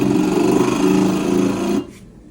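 A Kenmore front load washer grinds with a harsh, rasping scrape close by, holding steady for nearly two seconds before stopping abruptly into quiet.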